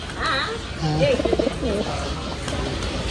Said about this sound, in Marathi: कबुतराला खायला दिले, खूप सारे कबूतर पण आले.